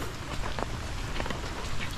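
Rain falls steadily in a rural Philippine setting, a dense, fairly close hiss of drops on surfaces lasting a couple of seconds with no voices.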